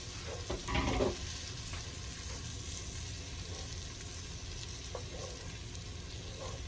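Diced ham tipped into a pot of cheddar broccoli soup base and stirred with a long-handled spoon, giving a steady close sizzle with a brief louder scrape and clatter near the start, no talking.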